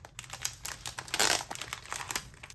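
Crinkling and tearing of taped plastic packaging as a 10-pack of sports headbands is opened, a close, busy run of crackles with a louder burst in the middle, no voices.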